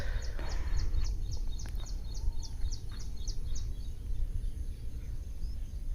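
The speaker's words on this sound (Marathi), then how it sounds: "मागं सगळं पाखरांचा आवाज येत असेल तुम्हाला मित्रांनो" Birds chirp around a farm with full water channels, a quick run of high repeated chirps early on followed by scattered calls over a steady rumbling outdoor background.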